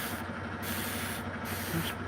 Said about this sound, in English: I'm spraying this. This is doing my dishes, truck driver style.